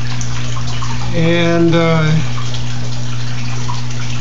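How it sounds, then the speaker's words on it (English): Water runs steadily through a fish tank spin filter, a constant hum and gurgle, while someone talks over it briefly in the middle. "the water flows off in that direction and creates a spinning motion"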